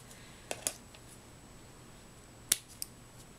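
Scissors cut twine rope for a handmade card decoration, a few crisp close snips in two quick pairs over a quiet room, with no talking.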